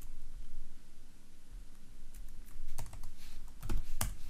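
Someone types on a computer keyboard, entering switch configuration commands: quiet, irregular clicks and keystrokes building into denser bursts toward the end, with no talking.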